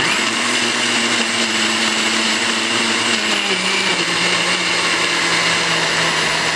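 A personal blender's small motor whirs loudly and continuously, a high buzzing drone that holds steady throughout.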